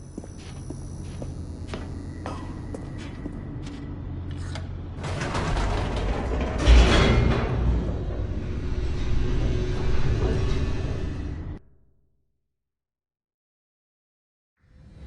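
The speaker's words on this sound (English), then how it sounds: "The elevator raced downward, plummeting towards an unknown fate." An elevator drops in The Stanley Parable with a grinding, clanking mechanical rumble and creaks. It grows louder midway, then cuts off abruptly into silence.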